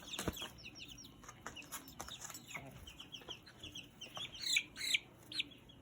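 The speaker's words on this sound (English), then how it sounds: "This is a buff Brahma." A young buff Brahma chick, about two to three weeks old, makes soft clucks and high peeping chirps close by, mixed with light scratching and pecking sounds, louder near the end.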